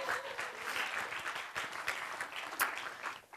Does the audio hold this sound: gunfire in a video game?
no